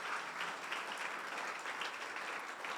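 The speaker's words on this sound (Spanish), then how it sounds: "Vamos a recibirlo con un fuerte aplauso a ellos también." A church congregation applauds during an evening service, a continuous wash of many hands clapping, quite faint and distant, with no speech.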